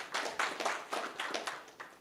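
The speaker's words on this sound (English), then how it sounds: "Can you clap for all these guys?" An audience at a townhall meeting claps, a handful of faint, slightly uneven hand claps from a small group, fairly distant and quiet.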